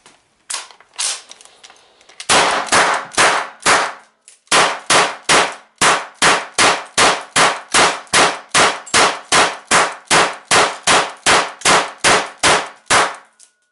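A GSG MP 40 chambered in 9mm PAK fires blanks during a 500-round stress test, loud sharp reports coming first as a few spaced shots, then long, evenly paced strings of rapid, regular bursts close up.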